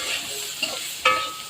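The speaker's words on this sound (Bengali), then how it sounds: "শাপলা ভাজির জন্য পেঁয়াজ, মরিচ আর রসুন দিয়ে দিয়েছি, ভেজে নিচ্ছি তেল দিয়ে।" Onion, chilli and garlic fry in hot oil for a water lily stir-fry, giving a brief close sizzle with a couple of quick spoon clinks.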